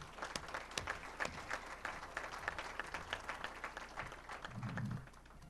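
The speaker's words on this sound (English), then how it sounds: "So let's give them a round of applause." Applause from an audience at the Sparta Butterfest royalty crowning, a faint, fairly sparse patter of hands clapping that continues at low level through the clip.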